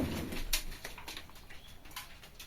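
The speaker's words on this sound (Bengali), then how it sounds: "দেখেন আমার কবুতরগুলো কত সুন্দর করে গোসল করতেছে" Pet pigeons bathe in a container of water in winter, cooing softly up close while light splashes and patters sound around them.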